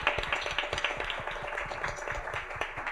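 A small group of people claps together at a panel discussion on design, the sharp hand claps coming fast and fairly close, steady for about three seconds with no talking.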